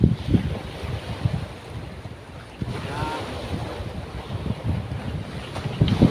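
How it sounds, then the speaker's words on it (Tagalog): A strong amihan (northeast monsoon) wind gusts in a coastal fishing area, buffeting the microphone in rough surges over the sound of waves and water close by. "Araw-araw laging malakas dito sa aming area umaatake lagi ang amihan"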